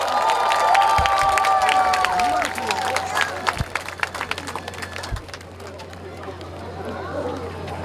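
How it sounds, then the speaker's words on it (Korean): A large outdoor crowd at the 2023 Boryeong Mud Festival concert claps and cheers in a dense, steady wash that is loudest early on and then thins, with some voices mixed in. "박수 한번 주세요!"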